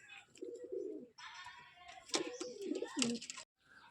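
A pigeon coos in soft, repeated throaty bursts close by, with chirps and rustling from other birds around it in a pigeon loft, alone without talk.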